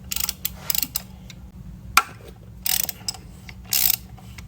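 A ratchet turns the oil filter housing counterclockwise on a Chrysler Pacifica with the Pentastar engine. Several short bursts of quick, close clicking are separated by pauses, with a single sharp tap in between.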